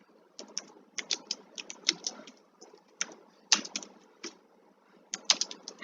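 Fingers type on a computer keyboard, irregular bursts of crisp, close key clicks with short pauses between them, heard alone.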